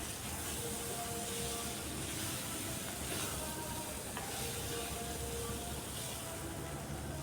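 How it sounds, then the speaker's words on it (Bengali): Chicken sautés with a roasted spice mix in a hot pan, giving a constant close sizzle and hiss with faint scraping as it is stirred. "ভাজা মশলাটা দিয়েও আরও কিছুক্ষণ কষিয়ে নিচ্ছি।"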